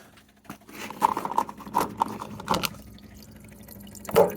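An aftermarket performance fuel pump spliced into a truck's fuel line runs steadily with a faint buzzing hum, joined by intermittent liquid trickling and clicking sounds nearby, with no talking.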